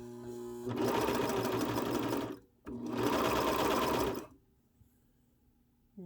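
A Brother 2340 coverstitch machine runs a generic binder, with two sustained stretches of loud, steady mechanical stitching split by a short pause and then followed by a quiet motor hum.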